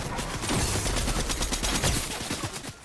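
Rapid bursts of automatic gunfire in the shooting video game Fortnite, loud and close with sharp repeated shots in a continuous fusillade, no talk over it.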